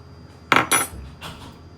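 A spoon and cutlery handled in a home kitchen: two sharp close metallic clinks in quick succession, then a fainter rattle, with no talking.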